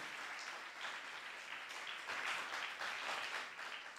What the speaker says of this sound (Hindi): क्योंकि तालियां इतनी कम बज रही है